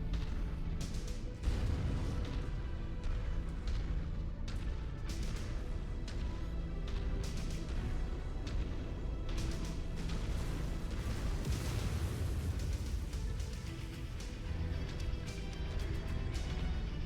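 Heavy, continuous rumbling barrage of orbital cannon blasts in a video game, with sharp bursts layered over a dense low roar, loud and sustained throughout.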